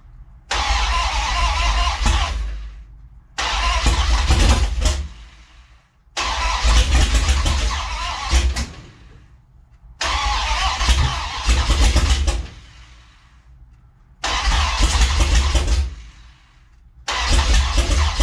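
A 1970 Plymouth Barracuda engine cranks and catches, then runs in several loud, close bursts of revving and idling separated by short silent gaps, with no talk over it.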